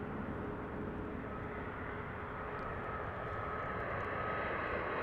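Airliner taking off from runway 1 left at Las Vegas Harry Reid International Airport in calm wind, a steady broad engine roar held at constant strength, heard from a distance without any talk.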